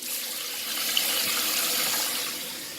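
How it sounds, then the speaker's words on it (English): Toilet tank refilling through a newly replaced fill valve, a steady close rush of running water that holds level for nearly three seconds before easing slightly at the end. "And the toilet is now filling."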